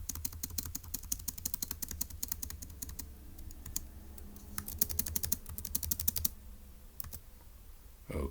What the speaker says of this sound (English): And so let's type that up.